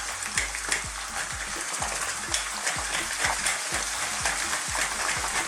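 Chopped anchovies cooking over low heat in plenty of oil in a pan, for spaghetti puttanesca: a loud continuous crackling sizzle, broken up by regular soft taps and scrapes of stirring, with no voices.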